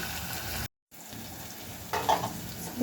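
Oil and masala for ringan olo sizzle quietly in a pan, a soft steady frying crackle with a short gap and a brief stir partway through.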